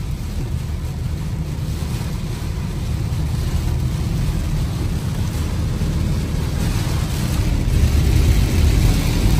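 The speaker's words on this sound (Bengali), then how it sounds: "গাইজ বলছি বৃষ্টি কতটা দেখাচ্ছে আপনাদেরকে।" Heavy rain pouring near the sea during a red alert in Andhra Pradesh, a steady loud roaring wash with gusty wind noise, rising slightly toward the end.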